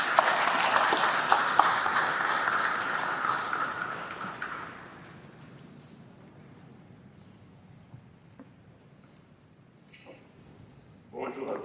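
A crowd at a funeral gathering claps in dense applause for the first few seconds, then it dies away into quiet room murmur with a few scattered claps and knocks.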